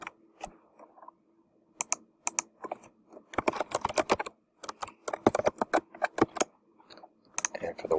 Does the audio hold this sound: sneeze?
no